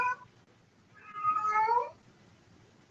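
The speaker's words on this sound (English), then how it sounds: "It's nighttime and the cats just go crazy." A cat gives a single drawn-out, wavering meow at night, heard moderately close over a low background hum, with a brief faint cry at the start.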